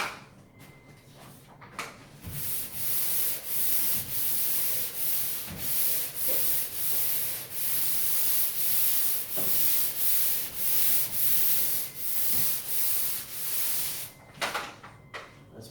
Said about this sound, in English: Or there's the rectangular regular pole sander.